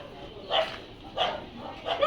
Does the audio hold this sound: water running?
no